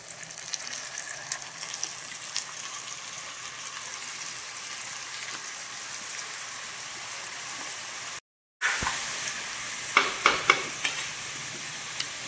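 Mutton frying in a pan gives a steady moderate sizzle. After a brief cut, louder stirring scrapes and a few sharp clatters sound over the hiss.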